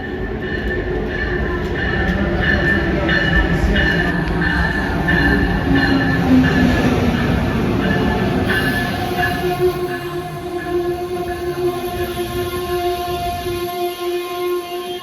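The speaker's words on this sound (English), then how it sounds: "At least here comes an Amtrak." An Amtrak train pulls into Wilmington station, a loud, steady rumble of wheels and cars rolling close by with faint squeals and clatter, easing off toward the end.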